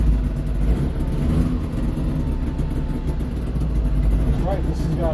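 An old car's engine runs with a steady low rumble that swells into revs while it drives along. The engine noise is continuous and close, and there is faint background sound but no clear speech.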